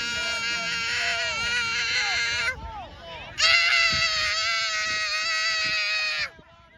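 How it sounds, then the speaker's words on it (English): A young son screams and wails in the middle of a soccer field in played-back footage, shrill and sustained, breaking off briefly before a second long scream, with faint background chatter. "Why not use the one of my son just screaming in the middle of the soccer field?"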